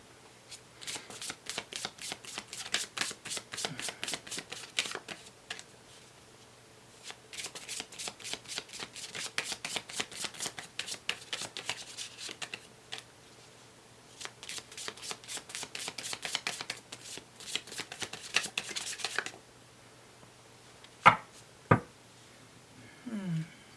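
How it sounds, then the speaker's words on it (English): Law of attraction cards are shuffled in long bursts of rapid riffling clicks, with short pauses between the runs and a couple of sharp knocks near the end. No one speaks. "let me get you a law of attraction card"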